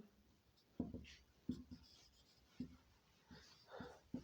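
Pen writing out a Class 10 maths solution on paper, a few distinct scratchy strokes in an irregular rhythm, fairly close and quiet against a soft background.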